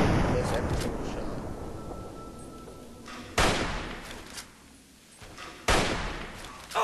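Hunting rifle shots in Fallout 3, with two sharp, loud gunshot cracks a few seconds apart over a noisy game background with a continuous rumble.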